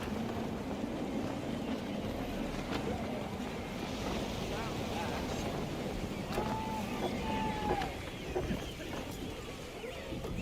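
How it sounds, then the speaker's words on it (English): Gusty wind rushing steadily around a sailing ship in the video game Assassin's Creed 3, a continuous soft roar of air and water with creaking, while voices speak over it. "Gusty winds can be difficult to manage."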